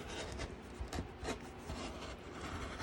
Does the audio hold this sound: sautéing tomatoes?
no